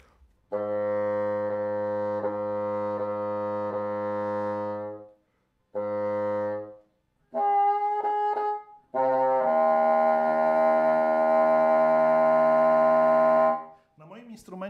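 A wind instrument sounds several held tones, some breaking into a rough, buzzing multiphonic growl, with short pauses between attempts.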